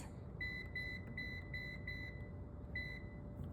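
A kitchen air fryer gives a series of short, evenly spaced electronic beeps as it is switched on. The beeps are fairly faint over a low background hum, with a brief pause before the last one.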